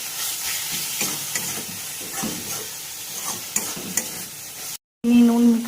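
Spices with salt and sugar stirred in a frying pan: a continuous sizzle with rhythmic scraping strokes up close, followed at the end by a short silence and a brief tonal hum.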